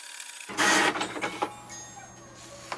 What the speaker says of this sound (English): Here we can see the welcome sheet is printed